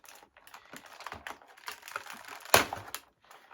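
A small box cutter slicing through toy packaging, heard as a close, quiet run of dry scratchy clicks and scrapes with one sharper crack partway through, no voices.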